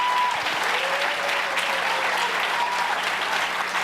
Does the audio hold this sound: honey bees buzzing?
no